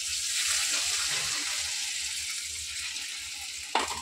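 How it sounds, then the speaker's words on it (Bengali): Hot water pours into a pan of frying potatoes, bringing a loud, hissing rush of sizzle and bubbling that slowly eases, ending with a brief clank. "এবারে গরম করে রাখা জলটা এর মধ্যে দিয়ে দেবো।"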